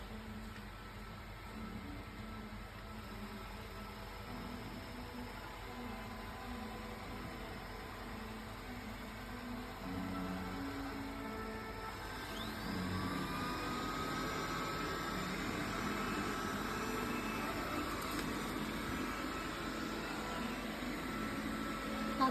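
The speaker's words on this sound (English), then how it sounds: "Start to vacuum and mop." A Xiaomi S10+ robot vacuum runs nearby while vacuuming and mopping, a steady low motor whir that grows louder and broader partway through.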